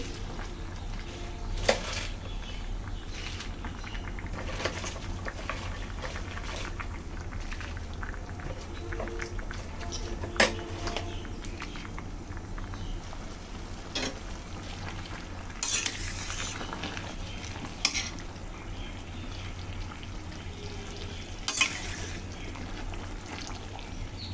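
Malabar spinach greens are stirred in a hot, sizzling pan for a spinach and fish curry; a steady frying hiss runs throughout, with a utensil scraping and clattering against the pan at intervals, close and fairly loud.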